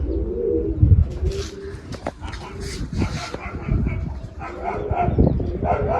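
Pigeons coo in low throaty murmurs near a loft, with a dog whimpering and barking at times and a person talking over the birds.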